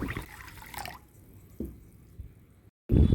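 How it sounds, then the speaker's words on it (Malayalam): Water poured over raw white rice in a bowl to soak for Onam ada, a dripping, splashing pour that trails off into quiet before a louder burst at the end. "ഇതിൽ വെള്ളം ഒഴിച്ച് കുതിരാൻ വയ്ക്കാം"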